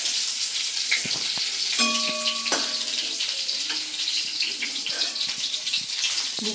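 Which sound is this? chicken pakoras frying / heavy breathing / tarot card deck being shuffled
chicken pakoras frying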